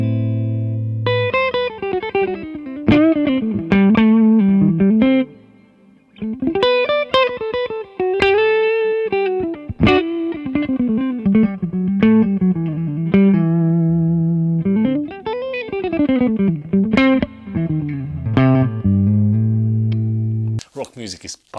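A PRS 594 electric guitar plays rock lines through a Rivera Clubster Royale 55 amp with vintage overdrive and reverb, loud and sustained with bent notes, phrased in bursts with brief gaps.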